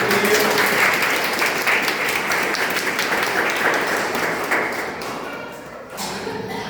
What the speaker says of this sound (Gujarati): આપણે સૌ તેમનું તાળીઓથી સ્વાગત કરીએ